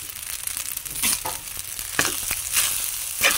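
Squid adobo frying in a pan beside garlic fried rice, stirred with a utensil: steady close hissing sizzle with scraping stirs and a few sharper clinks, no voices.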